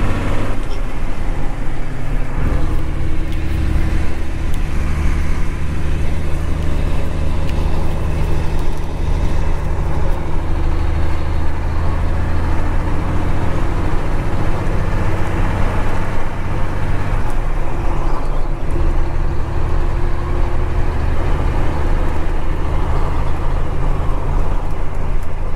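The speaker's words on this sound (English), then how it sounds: "teaching him how to drive this truck a little bit" Commercial truck with a manual transmission driving, its engine droning loudly and continuously with road rumble inside the cab throughout.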